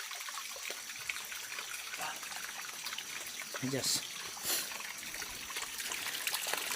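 Water trickling in a mountain stream, a steady bright burbling and splashing close by, with a person speaking briefly over it and a few louder splashes midway.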